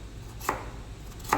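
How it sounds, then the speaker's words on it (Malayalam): A knife chops through potato on a cutting board in a home kitchen: two crisp, separate thuds about a second apart, close by and distinct over a quiet background. "കിഴങ്ങ് വെട്ടാണ്."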